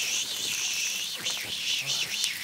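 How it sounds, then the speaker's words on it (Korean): A loud, continuous buzzing drone of cicadas at a mountain valley stream in summer, pulsing and wavering, with faint scattered noises beneath. "근데 매미 소리 들어봐봐, 매미 소리"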